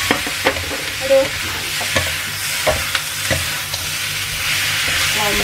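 Onions stir-fried in a pan while cooking beef rib sambal goreng with oyster sauce: steady sizzling with repeated sharp scraping and clacking strokes of a spatula, close and moderately loud, with a brief spoken remark.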